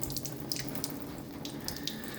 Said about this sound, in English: This is the alkaline water coming out